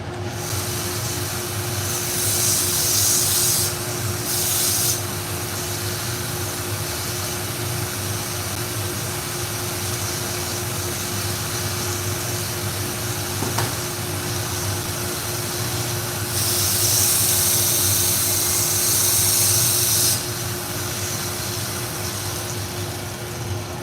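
A 1x30 belt grinder regrinding a damaged knife tip, a steady mechanical whir with a constant hum and two bursts of brighter, louder hiss as the steel meets the running belt.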